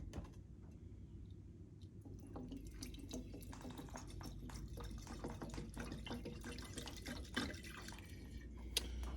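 Liquid fuel drips and trickles steadily after a messy pour from a 1951 Coleman 228E vintage lantern being taken apart, with small irregular drops and splashes close by and no talking.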